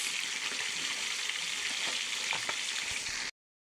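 Cooking oil crackles and sizzles steadily in a pan as food fries, a dense, close hiss with occasional pops and stirring, then abrupt silence at the end.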